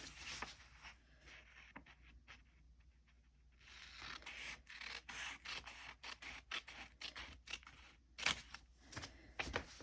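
Scissors trimming the paper of a counted cross stitch Valentine card, heard as a run of quiet, close snips and rubbing clicks with no talking.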